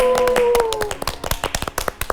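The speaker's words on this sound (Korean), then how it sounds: "박수 한번 칩시다" A congregation claps along during a Bible teaching session on Hebrews, sharp separate hand claps in an uneven rhythm, close and distinct, with a sustained voice tone at the start.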